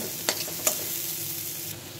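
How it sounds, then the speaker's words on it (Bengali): Onions frying in a pan, giving a steady sizzle throughout with two sharp stirring clinks early on, close and fairly quiet with no talking. "এখন আমি পেঁয়াজগুলো ভেজে নিচ্ছি"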